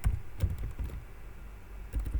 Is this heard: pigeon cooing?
no